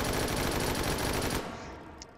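A Thompson carbine fires in the VR shooting game H3VR: a rapid, loud automatic burst lasting just over a second, then a short fading echo.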